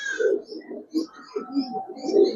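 Pigeons coo in a run of soft, low, throaty calls close by, several rounded phrases following one another over a couple of seconds with no talking.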